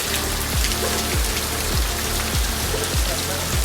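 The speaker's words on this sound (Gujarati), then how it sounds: "આ જુઓ વરસાદ કંઈ દેખાતું નથી બીજી વરસાદ" Steady rain hisses continuously across the whole stretch, with a few heavier drip-like thuds repeating every half second or so underneath.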